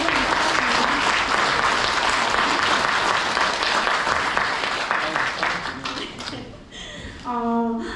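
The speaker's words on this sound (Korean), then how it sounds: "박수 한번 치고 이제 좀 마지막 정리를" A crowd at a book talk for a memoir launch applauds loudly and steadily, a dense wash of clapping that fades near the end as a speaker's voice comes in briefly.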